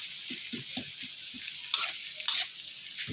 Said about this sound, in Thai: อันนี้น้องเก่งผัดไข่ก่อนนะคะ